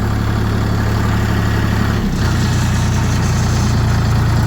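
A heavy tractor engine runs close by with a loud, constant low drone, briefly dipping in pitch midway before settling back.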